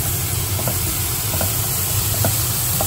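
Onions sautéing in a pan for egg gravy give a steady, close sizzling hiss with a few faint stirring clicks, no talking over it.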